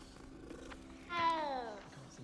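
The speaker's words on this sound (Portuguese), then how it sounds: "Estão aqui a fazer o ronron." A cat purring in Hogwarts Legacy, a soft rumbling purr that swells briefly to a louder, tonal cat call near the middle, heard close over quiet game ambience.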